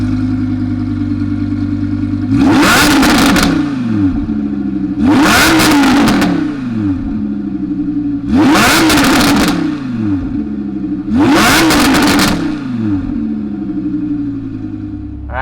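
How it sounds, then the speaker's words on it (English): A Vegas Yellow 2018 Audi R8 V10 Plus Spyder idles with a steady low rumble, then its V10 is blipped four times in a regular rhythm, each sharp rev rising loudly and falling back, close by with no talking. "let's fire this thing up."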